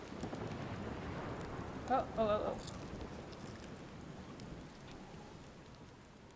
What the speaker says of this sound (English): That's the big storm.